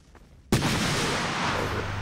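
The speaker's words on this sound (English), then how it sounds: "They're throwing nades in." Grenade blast in the Source mod game Empires, a sudden loud explosion after a quiet moment, followed by a sustained rumbling roar that fades only slightly.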